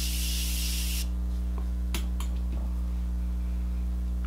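A single close hissing burst of Urban Decay micro-fine setting spray mist lasts about a second, followed by a few soft rustles and clicks against a steady hum.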